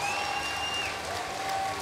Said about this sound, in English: both competitors take the applause from the crowd